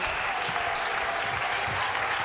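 A netball crowd at a South Africa versus England match applauds and cheers steadily for South Africa, a dense, continuous wash of clapping with faint commentary underneath.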